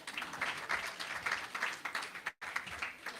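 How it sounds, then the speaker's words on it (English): An audience claps in a steady, dense wash of applause from a crowd greeting a woman as she comes on stage, with a brief cut near the end before the clapping resumes. "Round of applause for her as she comes."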